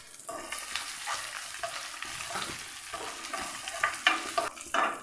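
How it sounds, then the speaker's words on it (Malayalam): Raisins roast in hot ghee while a spoon stirs them for a healthy no-oil banana snack: a steady, close sizzle with scraping strokes that grow louder and sharper toward the end, no voices. "എല്ലാം കൂടെ നമുക്കൊന്ന് റോസ്റ്റ് ചെയ്തെടുക്കാം."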